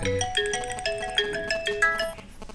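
A mobile phone ringtone plays a bright, repeating electronic melody of short tones, fairly loud and near, with no voices over it.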